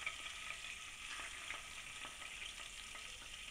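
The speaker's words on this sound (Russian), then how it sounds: "Обжариваем ее недолго, буквально, чтобы схватилась мука." Steady, crackling sizzle of flour-dusted Baltic herring frying briefly in a hot pan, with occasional sharper pops over a continuous hiss, close and alone.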